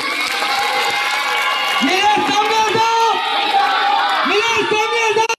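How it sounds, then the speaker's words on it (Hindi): A crowd at a Bhiwandi election campaign rally in Shantinagar cheers and whoops in welcome, loud and continuous, with shouting voices and a speaker talking over it. "जोरदार तालियों के साथ इनका स्वागत कीजिए"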